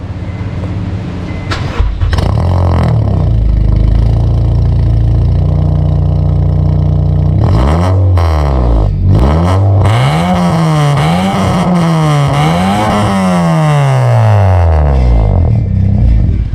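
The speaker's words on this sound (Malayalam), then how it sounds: "അപ്പം വണ്ടി സ്റ്റാർട്ട് ചെയ്ത് എക്സോസിന് കേട്ട് നോക്കാം." A modified Honda Civic with a full-system straight-pipe exhaust starts and idles loudly, then revs in repeated rising and falling pulls that sound near and raw, with no talking over it.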